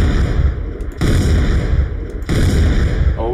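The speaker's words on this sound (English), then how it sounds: "when I press the trigger, it should be a different sound effect" Heavy booming shots from a customized revolver-style game weapon ring out loud and close, roughly three big blasts each followed by a rumbling tail, with no talking over them.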